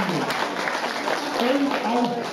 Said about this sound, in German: Applaus für alle